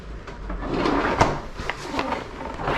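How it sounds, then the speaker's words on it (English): The produce drawer of a refrigerator in a 2025 Cherokee Timberwolf 39AL RV slides open with a soft plastic rumble and a few light clicks and knocks, close by, with no talk. "and then you have a produce drawer"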